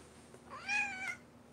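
A cat gives a single clear meow, rising then falling, fairly close and alone against a quiet room in a motel.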